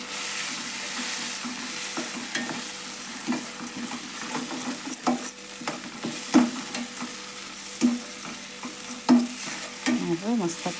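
A spoon scrapes and stirs peanut powder through a sizzling okra sukka dish in a pan, with steady frying hiss and repeated close scraping strokes and small clacks, no voices.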